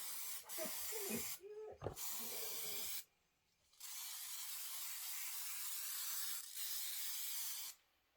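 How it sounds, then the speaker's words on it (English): Several long hissing bursts from an aerosol can, each lasting seconds, separated by short silences; a clatter of handling sounds before the first spray. "Here's my new spray can."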